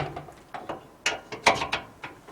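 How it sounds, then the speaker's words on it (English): Metal cotter pin pushed through the swing mount on a camper's rear bumper, giving a string of small, sharp metallic clicks and scrapes at close range, several brief ticks with a couple of louder snaps, no talking. "put the cotter pin in"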